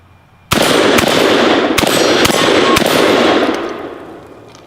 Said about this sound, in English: now I'm gonna just kind of shoot some targets here close